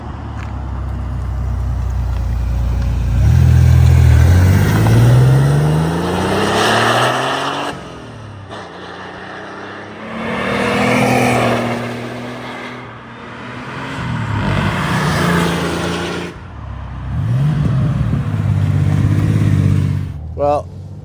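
A 1986 Porsche 911 Turbo coupe roars past in repeated flybys, the engine note swelling loudly as it approaches, sweeping down in pitch and fading, with three distinct passes separated by brief lulls and some talk mixed in.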